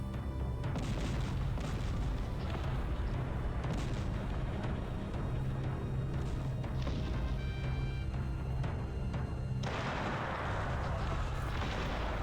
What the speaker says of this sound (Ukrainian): По нам б'є ворожа гармата